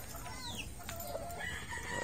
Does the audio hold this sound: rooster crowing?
yes